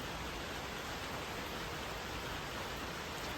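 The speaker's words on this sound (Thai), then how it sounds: "ฝนก็ตกแบบตกอากาศมันร้อนนะทุกคน" Steady rain falls on a hot day, a soft continuous hiss of even, faint wash with no voices.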